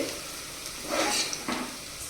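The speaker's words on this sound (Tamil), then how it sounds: "குக்கரில் பத்து வச்சுட்டு நெய் ஊற்றிட்டு எண்ணெய் ஊற்றிட்டு அப்படியே மசாலாலாம் போடணும் பட்டை கிராம்பு ஏலக்காய் இதெல்லாம் போட்டு" Whole spices — cinnamon, cloves and cardamom — fry in ghee and oil inside a pressure cooker for biryani, giving a steady close sizzle with soft stirring bursts and no voices.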